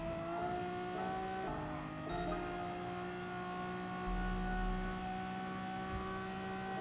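Race car engines drone in the Gran Turismo Sport video game, steady sustained tones that shift pitch as cars accelerate and downshift, with brief lower rumbles, and no talk.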